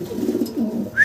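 Large English Trumpeter pigeons cooing close by, a low continuous rolling murmur with a brief higher note near the end; no speech.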